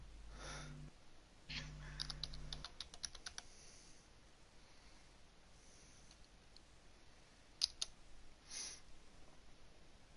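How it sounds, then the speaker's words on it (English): Rapid bursts of typing on a computer keyboard, with quick clustered keystrokes and short pauses, play quietly and close by during an F1 2021 sim-racing league stream. "As you can hear me typing furiously"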